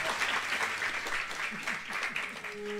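Audience clapping at a tabla solo birthday celebration, a steady mid-level patter lasting the whole stretch, with faint tonal sounds and murmuring beneath.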